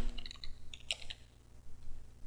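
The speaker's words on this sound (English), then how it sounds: "let's start out by typing in logger" Light clicks of typing on a computer keyboard, a few quick scattered keystrokes close and quiet, with a short burst near the middle and near-silence between.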